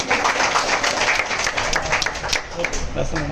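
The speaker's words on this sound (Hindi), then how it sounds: "इस बात के लिए हमारे जोरदार तालियां हो जाए" A crowd applauding an award winner at a customer awards gathering, with a loud, sustained burst of clapping from many hands throughout and a voice speaking over it.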